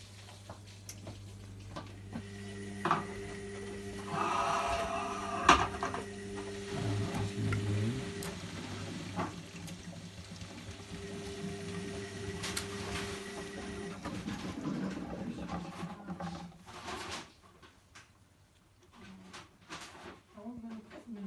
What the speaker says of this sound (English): Drain after first rinse.